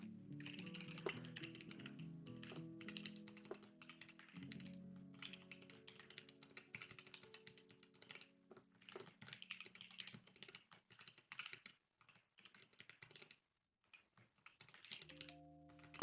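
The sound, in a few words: typing on a computer keyboard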